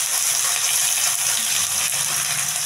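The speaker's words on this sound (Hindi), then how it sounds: "फिर मैं इसमें डालती हूँ हरी मिर्ची और प्याज। तो इन दोनों को अच्छे से फ्राई कर लेती हूँ" Green chillies and chopped onion fry in hot oil, giving a steady, close, bright sizzle with no talking.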